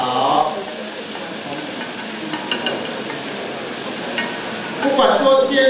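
Food is stir-fried in a cookware pan during a live cooking demonstration, giving a steady broadband sizzle and hiss with light stirring scrapes throughout.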